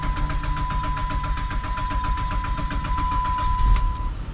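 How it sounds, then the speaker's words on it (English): A 2005 Chrysler 300 engine cranks over continuously in a rapid, steady starter rhythm for several seconds without catching, loud and close, with a brief chime tone running beneath. "Next up, we had a 2005 Chrysler 300 extended crank."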